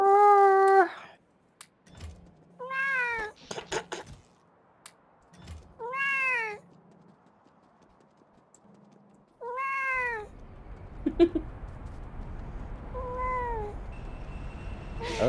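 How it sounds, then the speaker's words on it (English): A Bengal cat meows repeatedly, displeased after being picked up: several loud, close, drawn-out wailing calls in irregular bursts with pauses, plus brief handling noise. "Bengals make very emotive noises."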